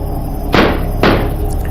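A cartoon-style effect of a door being smashed down: two sharp loud slams or bangs about half a second apart, each with a brief crashing tail, standing out over a quiet background.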